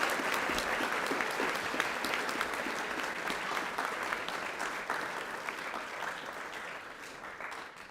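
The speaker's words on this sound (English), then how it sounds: "Round of applause for these wonderful students." A school prize-giving audience applauds students with dense, continuous clapping that stays loud and steady before slowly thinning toward the end.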